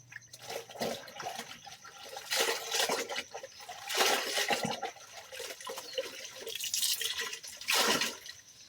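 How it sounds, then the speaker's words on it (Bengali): A wet cotton gamchha towel is washed by hand, with repeated close swishing, wringing and splashing of water in uneven bursts that rise and fall throughout. "গামছাটা ধুয়ে দিচ্ছি আমি"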